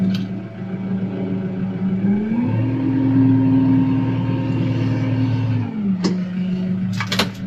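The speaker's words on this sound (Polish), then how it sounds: "Teraz sobie tutaj wycofiemy, to zobaczymy jak ta przekładnia będzie działać w praktyce." A Kubota M6 Utility tractor reverses with its engine running: a steady, close diesel drone that rises into a stronger, higher-pitched hum for a few seconds before settling back. A sharp click follows near the end.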